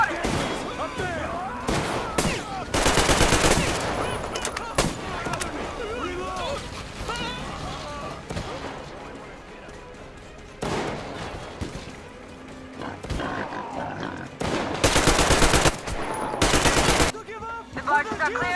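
Machine gun fire in Metro Exodus, sustained loud rattling bursts breaking out several times amid shouting voices and battle noise.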